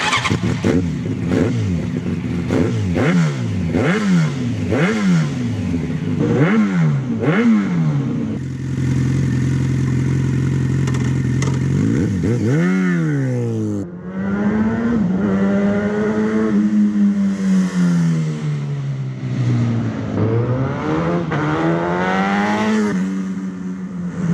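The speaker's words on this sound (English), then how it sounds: "I've fitted the can, there it is, and we're going to do the little run past so you can hear it going." Motorcycle fitted with a Black Widow exhaust can, baffles in, revving hard through several rising and falling bursts, then idling and riding past with a long swelling and fading engine note, loud and close with no talk.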